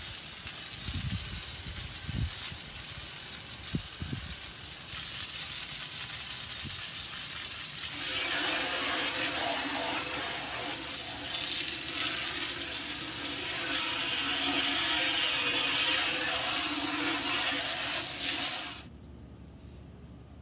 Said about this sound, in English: Now I just take the garden hose and hose it all off.